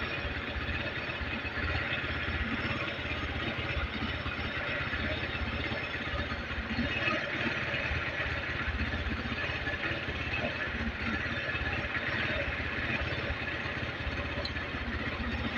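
A Motorstar motorcycle idles evenly after its air suction valve hose was replaced, the engine running in a steady, unbroken mid-pitched chug with a light clatter and no stumbling, close by and without talk.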